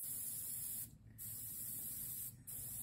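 A spray gun sprays fluorescent paint at about 18 psi, giving a steady close hiss that briefly cuts out twice in short pauses.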